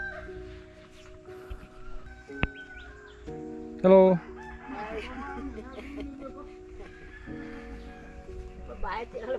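Rooster in a Thai village crowing once, loud and close, with a few clucks and other bird calls around it, while people talk and say a greeting nearby.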